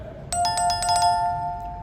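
A bright notification bell chimes in a quick run of ringing strikes, then sustains and fades, loud and alone with no talking.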